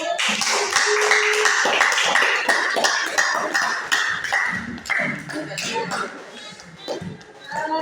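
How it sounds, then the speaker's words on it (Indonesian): Classroom applause for students who have just presented, a burst of many hands clapping loudly and close for several seconds before thinning out, with a voice speaking over it. "Silakan kita berikan aplaus dulu untuk yang telah tampil."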